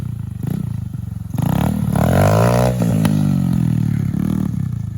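A 90cc pit bike engine revs up and holds a loud, strained drone for a few seconds, then eases back to a rough idle, recorded close by.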